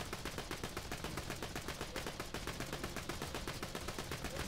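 Rapid, steady automatic gunfire in Borderlands 2: a dense, continuous rattle of shots at an even fast rhythm, close and loud with no pauses.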